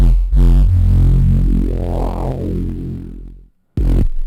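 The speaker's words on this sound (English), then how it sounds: "let's listen to this cool little kind of like bass stab thing that I made" Synth bass stab made with the Kilohearts nonlinear filter and heavy distortion, played without a bandpass: one loud, thick, growling sustained tone that swells and fades, then cuts to a brief silence before another stab hits.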